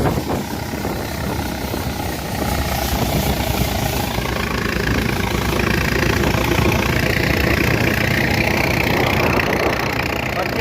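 A tractor engine runs steadily during a chickpea harvest in a field, a loud continuous mechanical drone close by with no talking.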